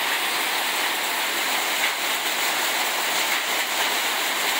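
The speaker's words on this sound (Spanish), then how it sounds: "Ya cambió a más a lluvia." Steady, dense hiss of heavy rain pouring down in Taxco, Guerrero, after hail and thunder, constant and enveloping with no pauses or voices.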